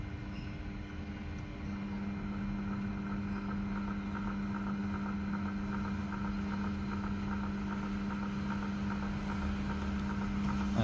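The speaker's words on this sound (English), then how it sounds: "My parting blade is only rubbing the stainless steel." A Proxxon mini lathe runs steadily at its lowest belt speed as a parting blade rubs against 304 stainless steel, making a continuous mechanical hum with a faint grinding scrape that holds level throughout, with no voices.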